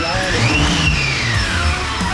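A Toyota Land Cruiser 80 Series engine idles steadily close by, with a slight stutter just off idle, and a faint rising whine running over the low rumble.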